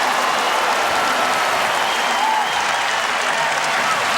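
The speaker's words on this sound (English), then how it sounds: "a nice warm reception from the crowd" A basketball crowd at an Indiana versus Vanderbilt college game applauds a player, a broad, steady wash of clapping and crowd noise that stays loud throughout with no clear breaks.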